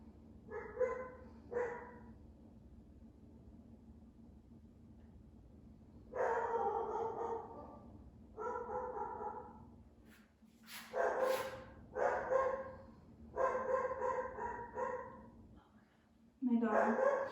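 A dog barks in short bursts during a home yoga session, several separate clusters of loud, close barks scattered over a low steady background.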